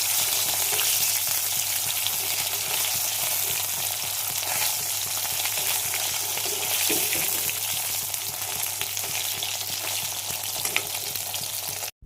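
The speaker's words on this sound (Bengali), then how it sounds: "মাছগুলো একটু হালকা করে ভেজে নিচ্ছি" Fish frying lightly in hot oil in a home kitchen pan, a steady close sizzle that runs unbroken and fairly loud throughout.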